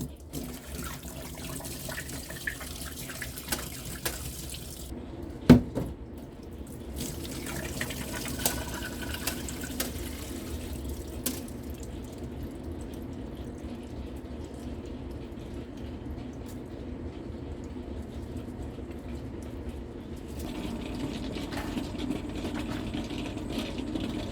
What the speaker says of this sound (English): we're going to drain out the water, and I want to drain out as much as I can